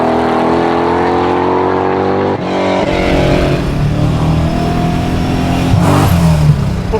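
A 700-horsepower supercharged LS V8 in a widebody 1974 Toyota Celica rumbles at a loud, steady idle, then snaps into short throttle blips that rise and fall sharply.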